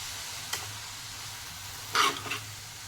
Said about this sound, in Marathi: व्यवस्थित हलवून घेणार आहे आता ही भाजी